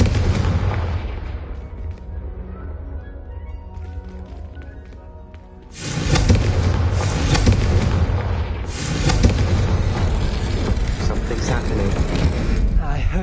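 Confringo fire spell blasts in Hogwarts Legacy on PS5, with a loud, sustained fiery burst near six seconds that keeps roaring as another surge rises near nine seconds, over busy game sound effects and music.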